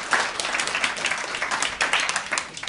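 Audience at a KIPP Academy school event applauds and chants in welcome of a performer, a dense, steady wash of clapping with rhythmic surges and some voices mixed in.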